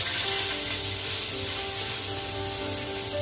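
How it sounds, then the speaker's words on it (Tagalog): Fish crackles and sizzles steadily in hot oil in a pan, a dense continuous frying hiss close by. "magpuprito muna ng isda ng ulamin ko"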